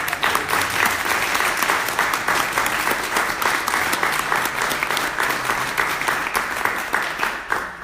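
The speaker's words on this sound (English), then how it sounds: "So if we could give each of them a round of applause for all their hard work." Sustained applause from a meeting audience honoring outgoing Venturing officers at a Scouting national annual meeting, many hands clapping in a dense, even wash that holds steady throughout at moderate loudness.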